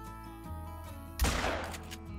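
A single sharp rifle shot cracks close and loud at an animal in a hunting video game set among Rocky Mountain wildlife, its report decaying over a low steady game ambience.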